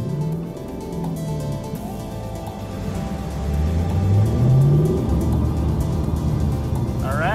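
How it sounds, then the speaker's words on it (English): Lexus LC 500 coupe running on a racetrack, a steady engine drone that swells and rises in pitch midway as it accelerates, continuous and fairly loud with no talk. "Let's take it for a ride on the racetrack."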